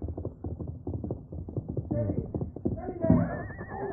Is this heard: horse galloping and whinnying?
yes